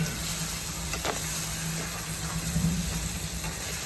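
Chicken liver masala sautéing in a pan for a Malvani kaleji dish, giving a steady close sizzle and frying hiss throughout, with faint scraping stirs and no talking.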